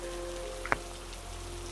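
Steady rain falls on a surface as a story sound effect, a constant soft hiss of drops with one brief louder tap, heard alone without voices.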